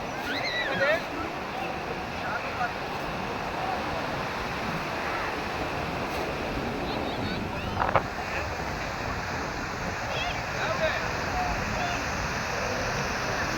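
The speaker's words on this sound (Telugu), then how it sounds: "అటునుంచి ఒక అల వస్తుందా, ఇటు నుంచి ఒక అల వస్తుంది" Sea waves break on a beach, rolling in from two directions and meeting, as a steady roar of surf with occasional wind buffeting on the microphone.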